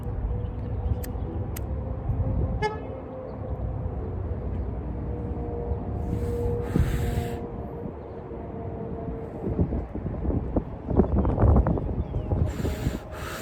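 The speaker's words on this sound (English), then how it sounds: "It's been pretty windy today." Gusts of wind buffet the microphone in low rumbling bursts, with faint clicks and a distant mechanical hum underneath; no one speaks.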